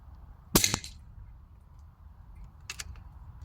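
A single sharp crack from an Anschutz 9015 HP Hunter air rifle firing at a 40-metre range, close and brief, with a fainter second snap a couple of seconds later over quiet background.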